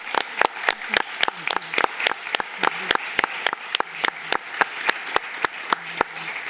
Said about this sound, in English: let's give another round of applause for our debaters